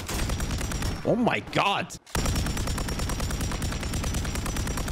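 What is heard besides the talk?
gunfire in a Call of Duty video game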